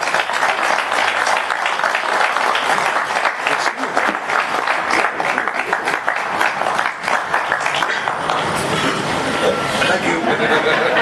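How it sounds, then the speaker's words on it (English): Sustained, dense applause fills an awards presentation honoring radio personality John Records Landecker as a state Sagamore, steady and loud throughout with voices mixed into the crowd noise. "let's give a big round of applause to our newest state Sagamore"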